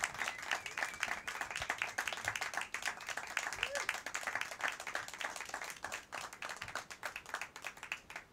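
Audience applause at a concert in a showroom, a steady crowd of hands clapping at moderate distance and holding a fairly even rhythm throughout, with no talk over it.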